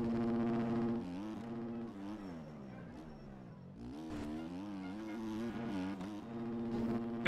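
A two-stroke motorcycle engine in a racing video game buzzes steadily at close range, its pitch rising and falling as it revs and shifts.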